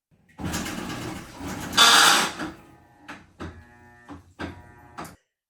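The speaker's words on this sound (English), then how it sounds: "this specific one here started exhibiting some weird grinding noises" A failing shift actuator in a Maytag washing machine gives off grinding, mechanical noises. A long, loud grinding run is followed by several shorter, separate grinding bursts with gaps between them, heard close up.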